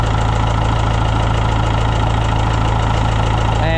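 An old tractor engine idles in a shed, a loud, steady low rumble with an even knocking pulse and vibration throughout and no one speaking.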